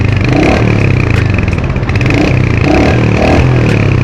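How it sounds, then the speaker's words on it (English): Royal Enfield Hunter 350 motorcycle exhaust, loud and close, with a deep, bassy, thumping engine note steadily revving and throbbing throughout, no voices. "This is how it starts and how it revs."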